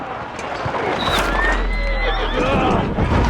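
A horse whinnies in a video game (Kingdom Come: Deliverance 2) with a high, wavering cry amid rustling noise and background clatter, fairly close and loud.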